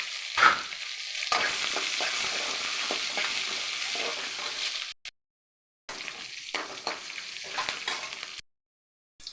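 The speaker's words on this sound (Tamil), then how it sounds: "ப்ரௌன் கலர் ஆகிற வரைக்கும் வதக்கும் காஞ்சி மிளகா போட்டுருவோம் வெங்காயம் போட்டுருவோம்" Onion and dried red chillies fry in a pan, a dense close sizzle with stirring scrapes, cutting out abruptly twice before resuming.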